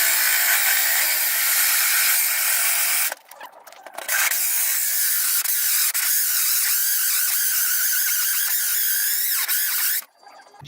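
A cheap power saw cuts metal in a loud, harsh, high whine that runs steadily, breaking off briefly twice before starting up again.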